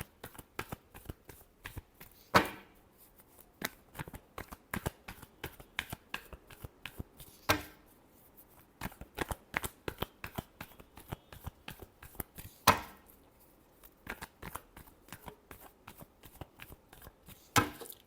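Tarot cards are shuffled by hand in rapid riffling bursts, with sharper louder snaps every few seconds as the deck is squared or cut, close and alone without talk.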